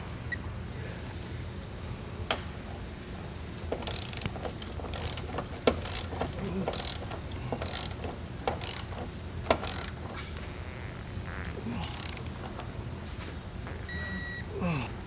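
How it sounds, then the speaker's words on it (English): Ratchet with a 19 mm socket tightening trailer hitch receiver bolts on a 2019 Nissan: soft intermittent clicking runs and metallic taps, fairly quiet, with a faint beep near the end. "we're going to be taking our 19 millimeter and we're going to be tightening these down"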